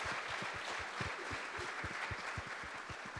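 A church congregation at a Sunday service in Pune claps briefly, a short full burst of applause with a rhythmic pulse running through it.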